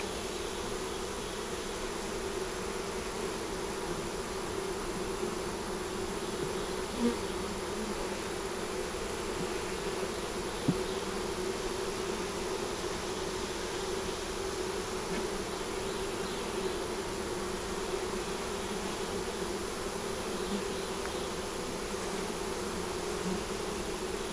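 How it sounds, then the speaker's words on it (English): Dense, continuous buzzing of many honeybees at an open hive during an inspection, steady and close, with no voices. "Get the bees off the bottom."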